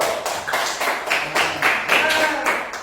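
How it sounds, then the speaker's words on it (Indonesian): A classroom of students applauding together after a computing lesson, a steady patter of many hands clapping in a fairly close, even rhythm for a few seconds with no talk over it. "Tepuk tangan dulu."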